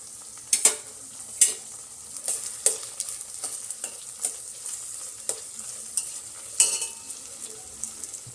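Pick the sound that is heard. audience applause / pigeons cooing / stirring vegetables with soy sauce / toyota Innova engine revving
stirring vegetables with soy sauce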